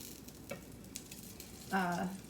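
Batter cooking in a skillet for protein pancakes, a soft steady sizzle that swells briefly louder near the end, heard alone without talk.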